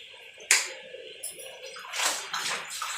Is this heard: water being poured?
yes